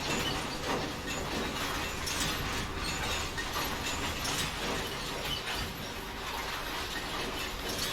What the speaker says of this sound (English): That is the sound of a long train stopping.